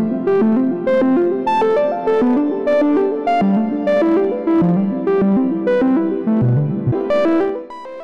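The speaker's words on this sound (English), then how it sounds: "Let's spice it up with some filter and reverb" A bright synth sequence of plucked, stepping notes with a filtered, effected tone and reverb tails, playing continuously without any voices.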